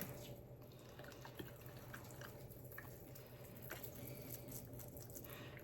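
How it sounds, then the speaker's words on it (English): Water poured and trickling into the holes of pumice rocks in a small rock garden for miniature carnivorous plants, a soft steady run of drips and splashes, faint and close, with no talking. "Fill these holes up with some water."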